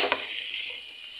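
Vegetables being mixed in a pan with salt and black pepper before steaming, giving a brief close hiss of sizzling with a faint scrape at the start, fading slightly over a moment, no voices.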